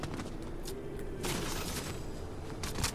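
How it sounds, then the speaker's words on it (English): Gunfire in a video game, with scattered bursts and shots sounding moderately distant through a dense, noisy game mix, a few sharper volleys standing out without any clear talk. "they're shooting down here"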